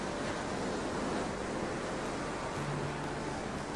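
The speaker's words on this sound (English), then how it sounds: "The water sounds so peaceful." Steady, soft wash of ocean surf on a seashore, a continuous hiss of breaking waves heard from a distance with no voices.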